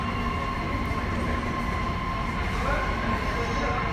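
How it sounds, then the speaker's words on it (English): An orange line metro train in Lahore, Pakistan rumbles steadily and loudly at a station, with a faint metallic squeal running through the constant noise. "this train from Lahore, orange train"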